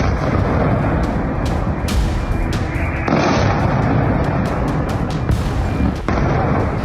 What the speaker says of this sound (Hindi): तेल अवीव के कई इलाकों में धमाके के साथ ही आग की लपटें उठती हुई दिखाई दी।